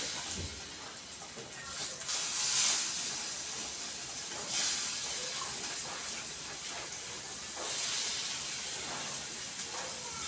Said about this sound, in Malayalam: ഇതിൻ്റെ ഇടയിൽ ഞാൻ മീൻ പൊരിക്കാൻ തേച്ച് വെച്ചിട്ടുണ്ട്